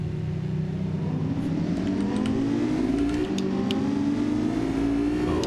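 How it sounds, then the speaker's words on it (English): Many flat-six sports car engines in BeamNG drone together as the cars drive off, a steady layered hum with pitch slowly rising as they accelerate, loud and continuous with no talking. "Oh, the sound of many flat sixes, the electric ones kind of going away."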